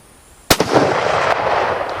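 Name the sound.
gunshot from Turkish 8mm Mauser rifle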